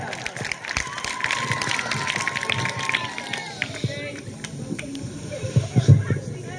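A crowd at a Marathi Language Day event applauds for poet Ramzan Mulla, steady clapping and cheering carrying through the whole stretch, with some talk and a musical tone drifting underneath.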